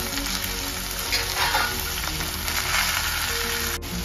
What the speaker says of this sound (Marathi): आता आपला मसाला भाजत आलाय.